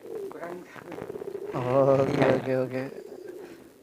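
A racing pigeon coos in a pigeon loft in Surabaya, a low throaty rolling call heard close by, with a man's brief spoken word at the start.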